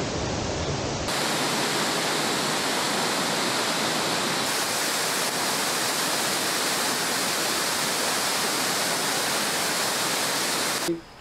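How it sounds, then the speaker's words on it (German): A mountain waterfall in Thailand roars as a steady, dense, loud rush of falling water that fills the whole clip, with no voices and only a brief change in level early on. "So, wir sind jetzt bei unserem nächsten Ziel angekommen, zum Fuller Wasserfall."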